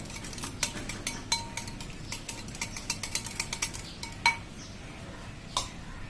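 A spoon mixes mango ice cream mixture in a bowl, giving repeated clinks and taps of metal on the bowl in an irregular rhythm, close and fairly clear, with no talk.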